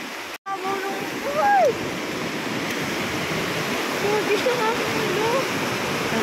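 Floodwater rushes like a river during a typhoon in Quezon, a loud steady roar close by that drowns everything else, with brief faint voices above it.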